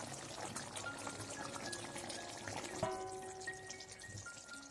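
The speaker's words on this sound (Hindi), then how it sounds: "इसी पॉइंट पर हम 2 टेबल स्पून केवड़ा एसेंस डाल देंगे।" Kewra essence poured into simmering chicken korma, a thin liquid trickle over a soft background of cooking noise with faint tonal hum, no talk.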